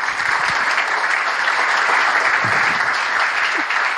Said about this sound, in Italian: Quindi intanto vorrei fare un applauso a voi.